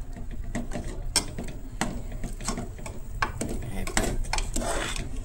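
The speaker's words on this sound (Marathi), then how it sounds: "हे आता पयलीं मिक्स करून घेया, मसालो आणि मीठ।" A spoon scrapes and clinks against a pot as masala and salt are mixed into black-eyed peas, making a run of close metallic taps and rasps over a steady background hiss.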